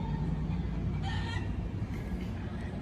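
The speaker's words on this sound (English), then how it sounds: "Can you hear the chickens?" Free-range chickens roaming the streets of Key West cluck and crow, with a brief louder call near the middle, under steady outdoor background noise.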